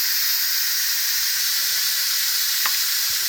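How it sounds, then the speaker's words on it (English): A pressure cooker holding potato soup vents its steam in a steady, loud, continuous hiss with no break, and a faint click sounds near the end. "I'm going to release the steam pressure again."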